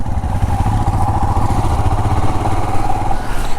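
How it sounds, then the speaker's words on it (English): A Royal Enfield Himalayan BS6 motorcycle idles with a loud, close, even thumping that holds steady and unbroken throughout. "when you start your bike in the morning, please keep it in idle for 1 to 2 minutes"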